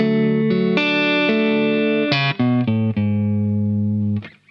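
Electric guitar playing a short clean melodic phrase from a song without the hammer-on, a handful of distinct sustained notes ringing close and loud before the last one is cut off, no talking.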